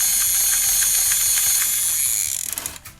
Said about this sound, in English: non-battery powered toys that do the actions like this